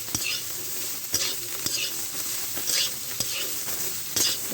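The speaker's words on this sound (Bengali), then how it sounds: "সয়াবিনগুলো আমার ভাজা হয়ে গেছে" Soybean chunks fry gently in oil on low heat, giving a soft steady sizzle broken by regular scraping strokes of a spatula stirring the pan, close and fairly quiet.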